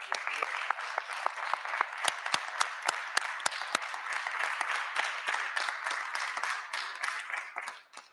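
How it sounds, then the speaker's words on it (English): Members in the Ontario legislature applaud in a steady wash of clapping with some louder individual claps standing out, fading at the end. "I invite you to join me in applauding their effort"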